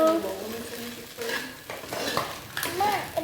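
Noodles with spices are tossed and stirred in a pan, giving loud, close scraping and clattering of utensil on metal over a light sizzle, with a voice briefly heard.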